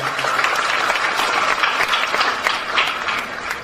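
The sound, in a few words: applause for the residents of Jogokarian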